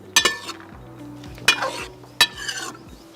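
Mixed vegetables frying in a pan for millet biryani, with a steady sizzle under three sharp scraping stirs of a metal utensil against the pan, close and fairly loud, no talking.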